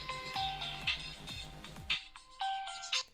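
A mobile phone ringtone plays a repeating electronic melody of bright tones in short phrases, fairly close and clear, ending in a brief final burst.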